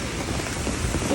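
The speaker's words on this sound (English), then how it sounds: "It's pouring rain." Heavy rain pours steadily on a New York City street, a dense, even hiss with no break, close and loud throughout the brief span.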